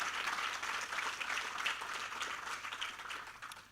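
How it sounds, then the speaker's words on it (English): Conference audience at a day-two closing session applauding the organisation team and host airport, a steady dense wash of clapping sustained for several seconds with no voices over it. "I would like also already to ask for a warm applause for the organization team and the host airport."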